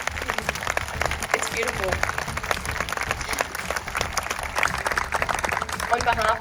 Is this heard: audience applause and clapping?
yes